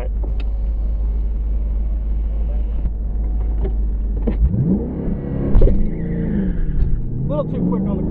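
A 2013 Shelby GT500 idles with a heavy low rumble, then the throttle is mashed for a launch and the engine revs hard and accelerates away, loud and close, with a voice talking over it.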